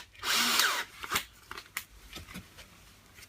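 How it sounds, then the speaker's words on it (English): A close drill with a wood bit bores briefly into wood with a high whine, then several sharp knocks and scraping clicks follow in quick, irregular succession. "Again, wood drill obviously."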